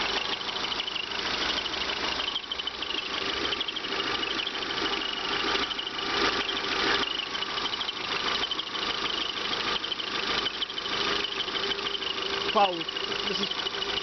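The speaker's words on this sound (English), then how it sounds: "This 1997 Honda Accord has a 4-cylinder engine in it." A 1997 Honda Accord with a 16-valve 4-cylinder engine, 2.0 or 2.4 litre, idles with a steady muffled hum and light ticking throughout, someone talking over it.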